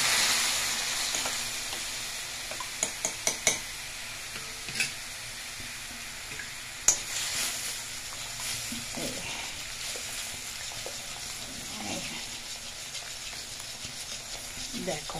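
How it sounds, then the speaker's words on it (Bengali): Cornflour slurry mixed with hot water sizzles in melted butter in a pan, a steady close frying hiss with several sharp clinks and scrapes of stirring, and no talk over it. "দেখো, বাটারটার মধ্যে দিয়ে দিয়েছি কর্নফ্লাওয়ারটা।"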